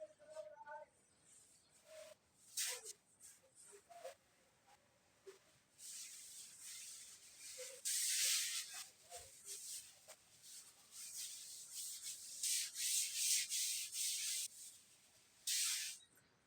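Writing being rubbed off a classroom board, with repeated scratchy hissing strokes of varying length, some loud bursts and short pauses, close by, without speech over it.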